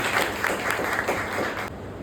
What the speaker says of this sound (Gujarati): આપ સૌને વિનંતી કે આપ સૌ તેને જોરદાર તાળીઓથી સ્વાગત કરો.